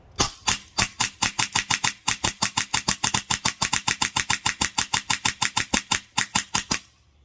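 Airsoft gun fed from a drum magazine firing semi-auto at goggles, a fast, even string of about thirty sharp, loud cracks close by, with no talking.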